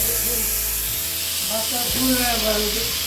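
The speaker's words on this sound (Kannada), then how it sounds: "ಈ ರೀತಿಯಾಗಿ ಫ್ರೈ ಮಾಡ್ಕೊಬೇಕು ರೀ ಟೊಮೆಟೊ" Chopped tomatoes frying in hot oil in a pan for tomato chutney, a steady close sizzle and hiss running throughout while a person talks over it.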